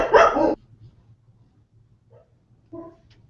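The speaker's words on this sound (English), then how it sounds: "I set the dogs off." A dog gives one loud, close bark at the start, followed by quiet low room hum and a couple of faint distant yips near the end.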